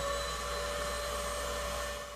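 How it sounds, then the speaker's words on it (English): A household vacuum cleaner with a Ventia dust collector attached on its hose runs steadily, a continuous whining roar with a fixed tonal hum, close and unchanging throughout with no talk. "To make sure the collector is snug, turn the vacuum on"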